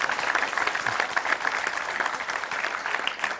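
An audience at a Hindi stage show claps in a dense, steady burst of applause, loud and sustained for a few seconds with no voices over it.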